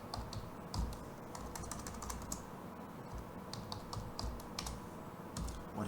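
Fingers type steadily on a computer keyboard at close range, with irregular soft key clicks and occasional sharper taps over low background hum.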